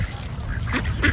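Geese honk and squawk a few times in short bursts at an animal feeding, close by over a low background rumble.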